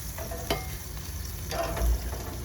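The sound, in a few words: marinated chicken searing on a grill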